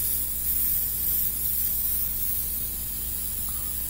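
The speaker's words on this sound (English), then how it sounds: "my basic workflow with an airbrush is to just kind of keep the air constant with these dual action." A dual action airbrush sprays thin red paint over a skin-tone mural, giving a constant, even airy hiss close by with no talking.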